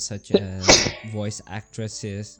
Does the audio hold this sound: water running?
no